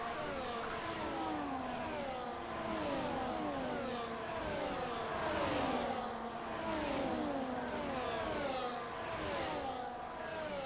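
Race cars in a Formula 1-style sim racing league event at the Mexico circuit roar down a long straight, several engines overlapping and rising in pitch with continuous loud whining revs and no break.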